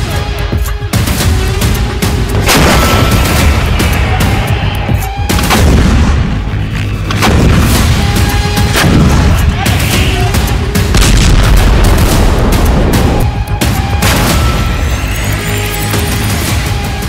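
Israeli artillery shelling and explosions in Gaza, with repeated loud booming blasts and gunfire-like cracks arriving every couple of seconds over a constant heavy rumble, close and powerful, with no voices.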